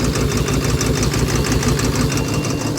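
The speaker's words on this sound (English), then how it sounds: "engine sound almost good now" A Case Cummins diesel engine runs steadily nearby, a loud continuous rumble with a fast rhythmic knock throughout, no voices.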